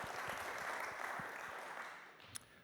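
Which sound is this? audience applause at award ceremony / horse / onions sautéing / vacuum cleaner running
audience applause at award ceremony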